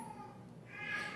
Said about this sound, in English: I'm sorry, that's my cat